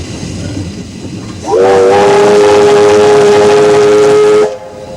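An Australian 50 class steam locomotive sounds its whistle in one loud, sustained blast of about three seconds, rising sharply, holding a steady tone and then cutting off, over a background of rumbling engine noise.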